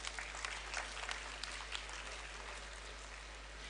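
Steady applause from a crowd at a college graduation ceremony, dense and continuous clapping that holds evenly throughout before easing slightly toward the end.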